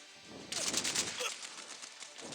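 MG42 machine gun firing in the video game War Ops, a quick burst of rapid shots starting about half a second in, with a softer rattling tail that fades after it.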